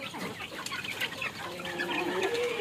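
Native backyard chickens, including two-month-old Rhode Island Red chicks, clucking and peeping steadily at close range, with overlapping calls and occasional higher chirps throughout and no talk.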